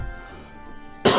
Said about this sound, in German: kurz husten